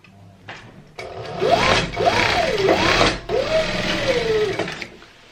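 A sewing machine stitches the leg seams of a Patiala salwar in three loud, steady runs of rapid mechanical whirring, close up with short gaps between them and no talk.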